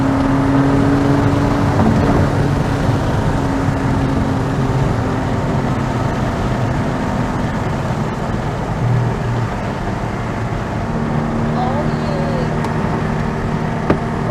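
Porsche 718 Cayman GT4 on a final drive, a steady engine drone and road roar filling the cabin throughout, with low hums shifting as it cruises; no talk over it.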